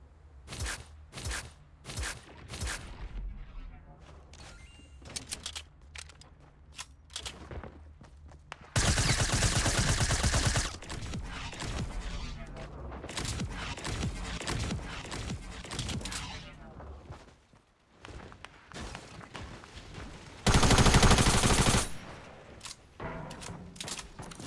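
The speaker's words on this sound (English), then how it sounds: "Yo, the tactical SMG." Tactical SMG fire in Fortnite, rapid bursts and scattered shots across a busy firefight, with two long loud continuous blasts of noise, near and intense, with faint game sounds between volleys.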